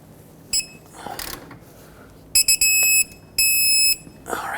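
Ratchet clicking on a control arm mounting nut of a 2003-2012 Chevrolet Colorado 4x4, with several quick bursts of sharp metallic clicks up close, separated by short pauses.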